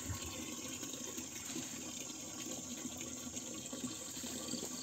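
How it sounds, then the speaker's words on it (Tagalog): Water from a full tank flows into a container, a faint, continuous hiss and trickle that is steady and unbroken throughout. "Lagyan natin ang water container."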